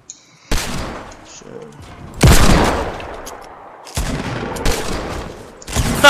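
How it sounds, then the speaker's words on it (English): Gunfire in a Fortnite gun battle: loud bursts of rapid shots come in separate waves between brief quiet gaps, close and harsh, with a player talking between volleys. "This is straight up a gun battle."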